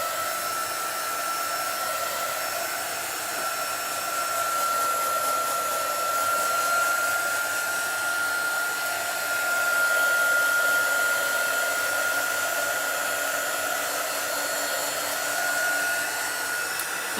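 A hair dryer runs steadily and alone, blowing on white paint brushed onto wood, with a constant whine and a slight swell in loudness around the middle.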